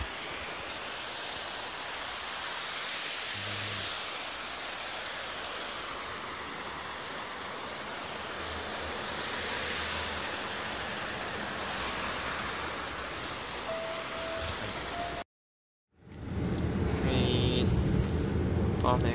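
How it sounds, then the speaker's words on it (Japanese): Rain falls steadily on a parked car, a dense even hiss that continues for most of the stretch, then cuts to silence briefly before louder noise returns at the end. "雨が降ってまーす"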